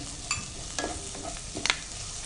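Sliced onions with turmeric sizzle steadily in a pan while a utensil stirs and scrapes now and then, giving a constant frying hiss with a few brief clatters close to the microphone.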